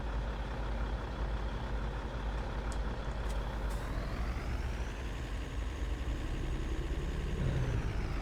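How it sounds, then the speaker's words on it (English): Kenworth truck in Farming Simulator 19, a steady engine drone with a rising pitch sweep, a few short clicks and a hiss near the end like an air brake release, no talking. "new truck too. This is Kenworth."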